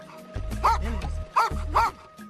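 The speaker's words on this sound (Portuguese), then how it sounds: "Eles contaram com a ajuda de cães farejadores." Firefighters' sniffer dogs bark at a rescue search in a large rural area, three or four loud, close yelping barks in two bursts with a faint whimper between, no talk over them.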